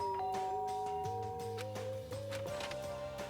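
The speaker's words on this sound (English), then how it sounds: "There's a doorbell next to the door. I guess I should use that." A doorbell rings in the Danganronpa video game, a chiming sequence of tones over steady game background music, no talking.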